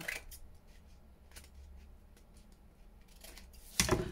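Scissors snipping through paper packaging scraps, a few faint close cuts followed by a louder snip near the end, in a quiet room.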